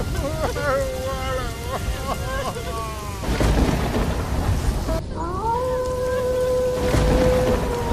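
Heavy rain pours steadily with rumbles of thunder beneath, loud and continuous, while tonal wailing cries rise and fall over the downpour in a village storm.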